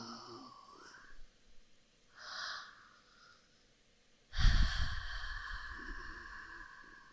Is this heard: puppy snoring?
yes